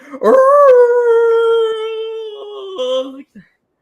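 A voice imitates the shrill, strained squawk of a squeezed giant rubber chicken: one loud, sustained, wavering honk lasting about three seconds, close and alone, ending in a short break and a brief final squeak.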